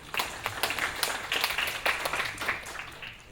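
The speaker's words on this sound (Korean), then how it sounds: "큰 박수로 환영해 주시기 바랍니다." An audience at a Korean tech developer forum applauds to welcome a speaker. The clapping is fairly faint and sounds somewhat distant, with uneven bursts and no talking over it.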